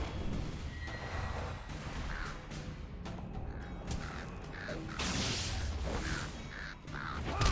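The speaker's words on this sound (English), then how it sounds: "The Nazgul's horse." The Nazgul's horse in Lord of the Rings Online gives a series of short, harsh, rasping whinnies that recur in bursts over a noisy game background.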